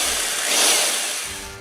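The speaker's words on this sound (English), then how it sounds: "it was time to break out the power tools." A power drill with a large bit bores into soft plastic protected by masking tape, running slowly; one close, loud whirring burst of grinding noise that swells and eases over under two seconds.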